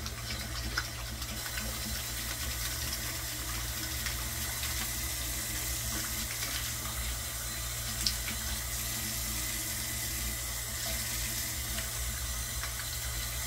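Tap water runs steadily into a sink for a rinse after a wet shave, a continuous close hiss and splash with no breaks and no talking.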